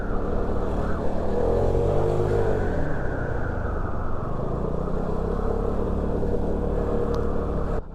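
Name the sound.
Vespa GTS 310 scooter accelerating uphill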